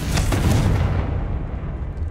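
A Confringo blasting spell explodes in the Hogwarts Legacy video game, a loud, close blast that rolls into a long, decaying rumble with no voices over it.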